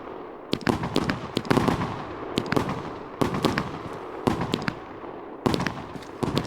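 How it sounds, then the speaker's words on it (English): Fireworks in the video game Fireworks Mania burst in quick clusters of sharp cracks and pops, several volleys spread across the stretch with crackling tails between, loud and close. "until those fireworks are going off, it's gonna take really long"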